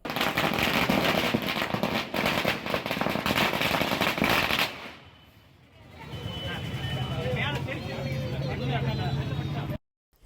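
Firecrackers burst in a dense, loud, continuous crackle at a celebration in front of the Kasi Viswanathar temple, then stop abruptly, leaving quieter crowd and street ambience.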